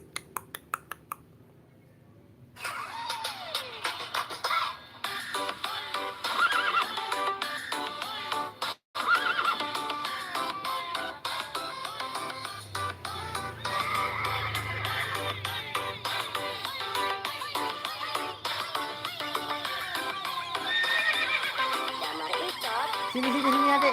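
A horse pulling a delman, a small horse-drawn carriage, whinnies several times amid steady hoof clip-clops and light rattling, with brief voices in the background.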